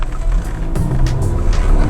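A Volkswagen Passat B TDI diesel with DSG gearbox pulling away after being shifted into drive, steady low engine rumble close by with light tire and road noise, no talking.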